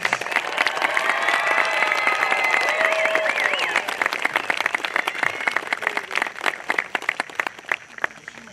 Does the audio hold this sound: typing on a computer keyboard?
no